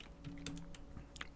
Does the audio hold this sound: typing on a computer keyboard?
yes